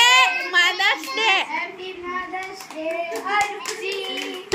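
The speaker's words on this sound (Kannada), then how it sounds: "ಎಲ್ಲ ಚಪ್ಪಾಳೆ ತಟ್ಟಿ" At a family Mother's Day gathering, children's voices sing and chatter over scattered hand claps, with a few sharp, close claps standing out among the lively talking.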